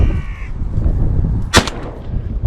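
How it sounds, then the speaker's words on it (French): Crows caw in a crop field, with a few harsh calls at the start and a loud sharp burst in the middle over steady outdoor rumble. "il y a encore d'autres corbeaux qui arrivent. Vous l'entendez?"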